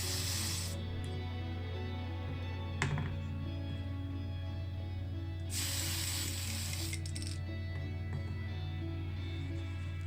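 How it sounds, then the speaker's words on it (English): Tamiya Fine primer sprays from an aerosol can onto a small die-cast Rolls Royce Silver Spirit model car in two close hissing bursts over a steady low hum, with a faint click between them. "I use this Tamiya Fine primer"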